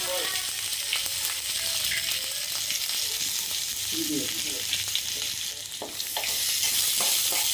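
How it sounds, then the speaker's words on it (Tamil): Onions with black gram dal sizzle in hot oil in a home kitchen while being stirred, a continuous close frying hiss with intermittent scraping strokes of a spoon in the pan. "நல்லா வதங்குற வரைக்கும் கிண்டணும்"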